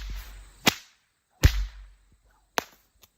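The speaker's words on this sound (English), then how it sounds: "So we're going to do the cow and the calf and the slow figure 8." Three sharp bullwhip cracks at a slow, uneven pace, each a sudden loud snap with a short whooshing tail, worked through cow-and-calf and slow figure-8 moves in a Wild West whip class, no talking.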